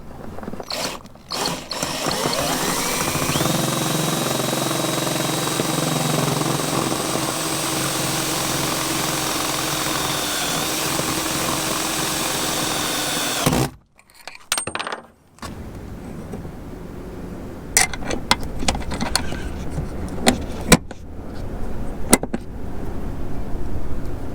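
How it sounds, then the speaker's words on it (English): A power drill drives a tech screw into a door extension bracket with a loud, sustained whirring grind for about thirteen seconds, then stops, followed by a short burst, scattered clicks and clanks of handling tools nearby. "once I find that tech screw, you'll see me tech screwing it in."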